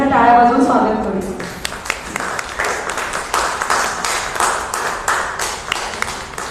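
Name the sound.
audience applause welcoming guest on stage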